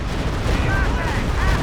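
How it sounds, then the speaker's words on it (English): A walking Stuka rocket barrage in Company of Heroes 2 rumbles as a continuous, heavy wash of explosions and whistling rockets in a war video game, loud and close. "Here comes another walking Stuka barrage"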